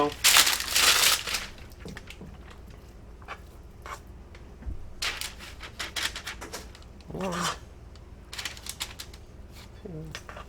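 Parchment paper being pulled and crumpled onto a baking tray while making peanut butter cricket cookies, loud crinkling bursts followed by scattered rustles and softer handling noises, close by.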